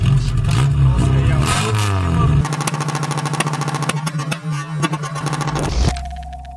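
A loud, raw car engine with the muffler removed revs hard and throaty, rising and dropping in pitch with a rattling exhaust roar, close by.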